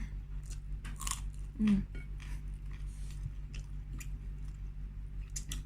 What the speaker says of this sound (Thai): จะเคี้ยวได้ปะเนาะ